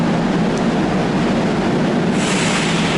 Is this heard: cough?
no